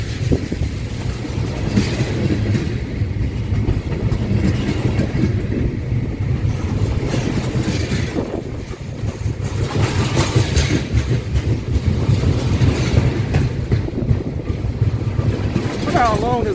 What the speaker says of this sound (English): I don't think I've ever felt so uncomfortable sitting next to a train in my life.